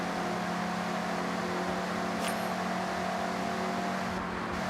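Mazda MX-5 engine racing in the Forza Horizon video game, a loud, steady, continuous engine drone that holds its pitch throughout, with no talking.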